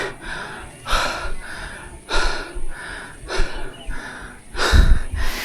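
A cyclist breathes heavily after climbing a steep uphill route toward a pine forest summit, with deep gasping breaths and snorts repeating roughly every second, close to the microphone and with no talking.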